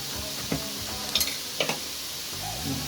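Sautéing in a pan with salt and Kashmiri chilli powder: a soft, steady sizzle runs underneath while a utensil stirs and scrapes in a few short, distinct strokes close by, with no talk.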